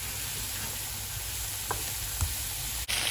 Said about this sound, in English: we're going to fry the tomatoes now